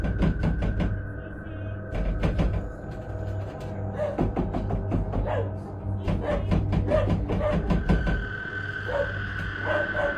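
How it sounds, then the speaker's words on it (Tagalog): Sharp knocks strike a bedroom door in quick repeated bursts, with pauses between volleys. A steady tonal hum sits underneath. "makarinig ito ng mga knocking sound eh, na nanggagaling sa mismong pintuan ng kwarto"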